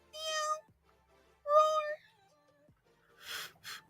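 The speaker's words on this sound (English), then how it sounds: "They're gonna hear you go. Meow." A cat meows in two drawn-out, wavering calls, followed by a shorter, rougher cry near the end, each separated by quiet gaps.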